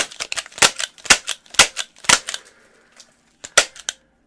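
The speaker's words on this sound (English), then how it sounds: "this dual-wield confetti cannons are for you" A pair of handheld confetti cannons fire in a rapid run of sharp, loud pops, several bursts close together, then a short pause and two more distinct bangs near the end.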